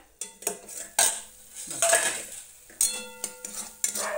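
A metal lid lifts off a covered pot of village-style chicken curry that has been slow-simmering for 10–15 minutes, giving several loud clanks and clinks of metal with scraping and stirring in between, close up and without talk.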